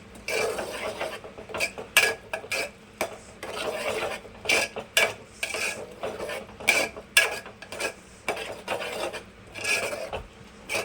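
Okra and cucumber curry stirred in a pan, a spoon scraping and rasping against the metal in quick uneven strokes with short pauses, close and fairly loud with no voices.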